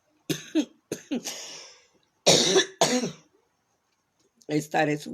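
A person coughs in several harsh, separate bursts, with short pauses between them and one throat-clearing fit in the middle.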